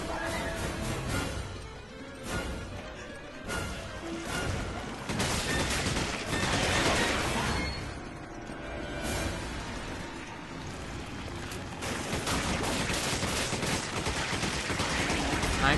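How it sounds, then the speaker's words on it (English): Video game gunfire from Resident Evil 5, aimed at a creature's gooey weak spots: sustained rapid bursts and single shots ring out nearly continuously, with loud impacts and a dense, chaotic backdrop. "I'm shooting the gooey spots, but the gooey spots aren't helping"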